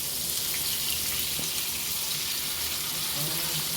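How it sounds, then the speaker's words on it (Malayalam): Green fish frying in oil in a pan, a steady, close hiss and crackle of sizzling that runs without a break, with faint clicks and spatters now and then. "ഒരു ഭാഗം നല്ലോണം ഫ്രൈ ആയിട്ട് വന്നിട്ടുണ്ട്."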